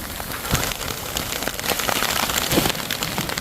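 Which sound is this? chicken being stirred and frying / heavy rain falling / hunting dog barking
heavy rain falling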